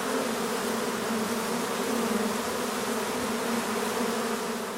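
A large swarm of bees buzzing loudly and continuously, a dense, steady drone close to the microphone with no voices over it, recorded while the swarm is shaken into an improvised hive.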